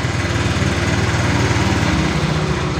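Honda Vario 125 scooter engine running steadily after starting, a loud continuous buzzing idle with fast low-pitched firing pulses, close by, with no talk.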